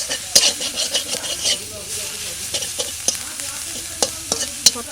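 Neem leaves frying in mustard oil in a pan, a close sizzle broken by frequent scraping stirs and sharp clinks of a utensil against the pan, with no talking.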